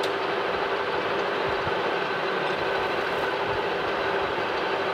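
Steady broadband machining noise from a cutting pass on a stock gear for an antique drill press, continuous and fairly loud with a constant droning hum and no pauses.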